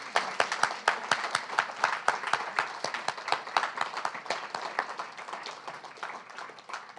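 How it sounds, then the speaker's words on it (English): An audience at a poetry reading gives a round of applause, sharp individual claps forming a lively, fairly close burst that gradually thins and softens toward the end. "One more round of applause for Robert Hass."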